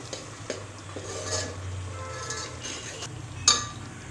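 A spoon stirring and scraping masala frying in oil in a pan over low heat while cooking mutton curry, with soft scrapes, occasional metallic clinks and a sharp knock near the end.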